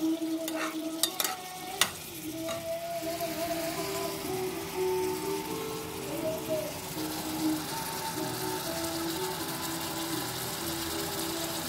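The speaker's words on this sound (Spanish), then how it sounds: "Hay que dejar que se sofría bien el jamón." Ham fries in a pan with a continuous close sizzle and crackle, a few sharp utensil clinks at the start, then steady stirring scrapes and a low hum underneath.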